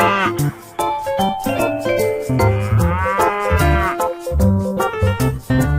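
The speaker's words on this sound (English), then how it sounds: "Buffalo." A buffalo's low, drawn-out bellowing moo, loud and close, rising and falling over several seconds with steady rhythmic music playing underneath.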